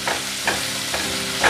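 Onion and slit green chillies frying in oil for a tilapia curry, a steady close sizzle with brief scraping stirs of a spatula recurring about every half second, no talking.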